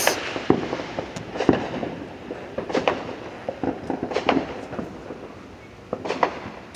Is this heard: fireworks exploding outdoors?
yes